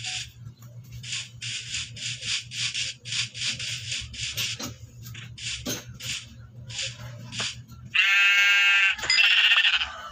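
A goat gives a loud, drawn-out bleat near the end, after a stretch of rhythmic rubbing or scraping noises over a low steady hum.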